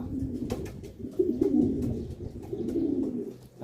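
Racing pigeons from Pampanga cooing in repeated low, throaty phrases during a summer derby race, steady and fairly close with faint background noise.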